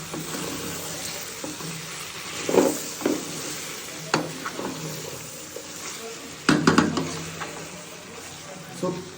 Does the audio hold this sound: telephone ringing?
no